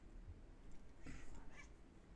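A house cat gives one or two faint, brief meows over a low background hum, somewhat distant and quiet.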